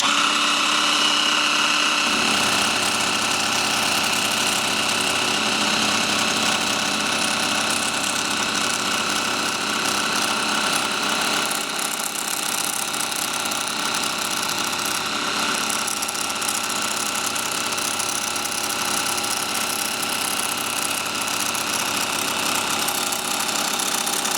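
A Dremel MS20 Moto Saw running at speed 1 while cutting, giving a steady mechanical buzz with a faint rattle from the reciprocating blade. The sound carries on throughout, close and fairly loud, with no speech.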